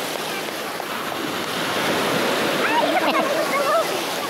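Ocean waves break on a beach at Fortune Island during a family outing, a steady, fairly loud roar of surf that swells slightly toward the end, with people's voices mixed in nearby.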